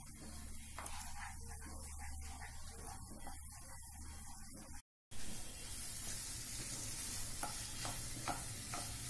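Moong dal roasting in desi ghee for halwa, stirred steadily in a pan, gives a continuous close sizzle with soft scraping that cuts out for a brief silent moment midway, then resumes.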